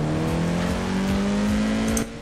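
Volkswagen Golf engine in the racing game Forza Horizon 4, revving hard and close with a rising, sustained whine that cuts off abruptly near the end, with no talk over it.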